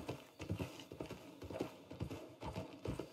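Rhythmic clip-clop of horse hooves in the video game Red Dead Redemption 2, a steady trotting gait of repeated hoofbeats, fairly quiet and with no voices over it.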